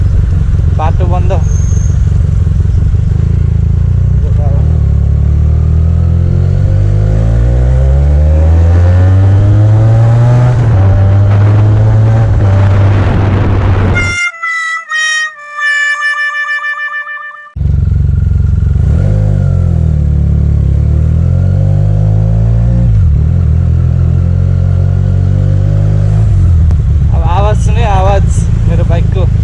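A Benelli TNT 300 motorcycle with a Yoshimura exhaust is ridden around a city. Its loud engine revs up and down repeatedly with rising and falling whine, cuts out briefly midway, then revs hard again.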